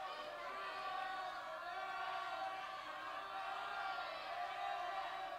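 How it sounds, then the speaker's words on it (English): A boisterous high school basketball crowd in a gym yells and cheers in a sustained, fairly distant roar with overlapping shouts, heard without clear talk on top. "Boisterous Mesa crowd behind me"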